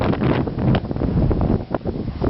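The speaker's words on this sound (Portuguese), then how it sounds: "Um baita vento, o demão tá congelando." Strong wind buffets a microphone outdoors on a freezing snowy day, a loud continuous rushing roar with gusty swells and no pauses throughout.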